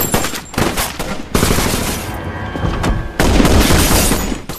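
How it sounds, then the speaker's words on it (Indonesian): A gangster shootout scene in an action movie, with loud, dense bursts of gunfire close by, rapid overlapping shots and heavy booms coming in waves, with short lulls in between. "baku tembak tidak bisa dihindari saat seorang gangster jamet nekat mengeluarkan senjatanya"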